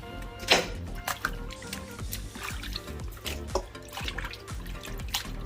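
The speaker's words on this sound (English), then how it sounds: "You just want to drench these in vinegar. Just push them down in the vinegar, just like this." Pork pieces pushed down and sloshed around in a bowl of vinegar for Jamaican jerk pork, giving close wet squelches, drips and small splashes in an uneven run, without talk.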